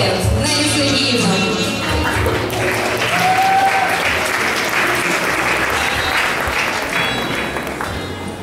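Steady, loud applause from an audience fills a school's 25th anniversary ceremony, sustained throughout with a slight fade toward the end.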